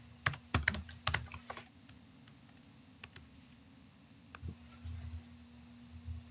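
Keys clatter on a computer keyboard as a username and password go in, a quick burst of close typing at the start, then scattered single presses and a few more taps near the end, quiet overall.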